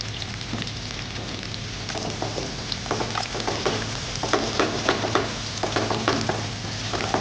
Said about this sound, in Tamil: ஸ்லைஸ் ஆனியன் சொன்ன மாதிரி நீங்கள் வந்து இந்த ஆயிலில் வந்து நல்லா ரோஸ்ட் பண்ணி எடுக்கணும்